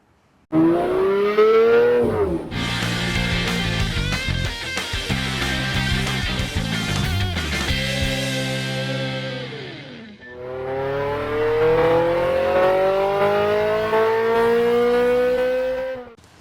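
A very orange McLaren 570S supercar revs loudly and close by, its engine rising in long sweeps, then breaking into a rough, busy stretch before climbing again in another long, steady rise.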